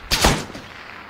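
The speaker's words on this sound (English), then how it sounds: "Heard shots." Gunshots ring out in a quick burst of two or three close, sharp cracks, then a short decaying tail into quiet.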